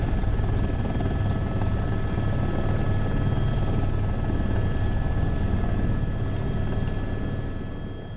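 A helicopter landing beside a rice paddy wall in Nepal: loud, continuous rotor thrum and engine whine fill the scene steadily, close and unbroken, with no voices.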